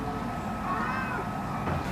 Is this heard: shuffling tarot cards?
no